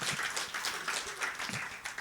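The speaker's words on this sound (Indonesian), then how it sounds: "Berikan tepuk tangan kita untuk Tuhan kita." Soft, scattered applause from a church congregation, fairly faint and distant, with a few mingled voices.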